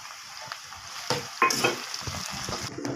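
A spice paste of ground cumin and ginger hits a hot pan and fries with a steady close sizzle, broken by scraping stir strokes and small clatters of the spoon against the pan.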